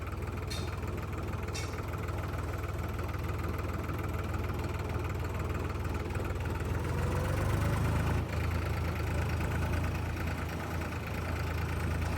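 A New Holland tractor engine idles steadily nearby, a continuous low rumbling drone with an even mechanical chug, holding constant for the whole stretch with a couple of brief clicks early on.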